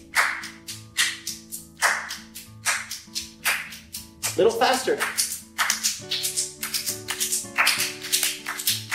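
Rhythmic hand claps and knee pats in a repeating clap-knee-knee pattern mimic galloping horses, sharp and close, speeding up over time, with a voice speaking between the beats.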